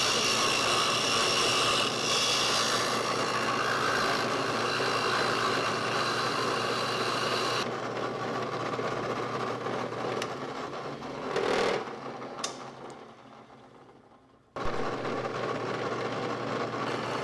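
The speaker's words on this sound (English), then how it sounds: "this bit cuts plastic like butter" A high-speed rotary tool spinning a bit through resin plastic, a steady whining buzz that drops lower partway through, then cuts out briefly before the motor whirs back up near the end.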